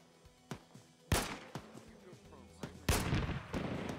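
Video game combat gunfire in a rooftop town-clearing battle: scattered single shots, then two heavy, loud bursts of fire with echoing tails, spaced through the moment without talk.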